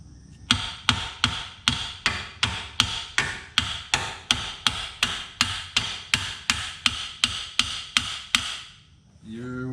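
A hammer strikes metal over and over, about twenty evenly spaced, ringing blows close up, ending with a brief scrape, hammering on a Fox-body Mustang's front suspension during a lower control arm swap.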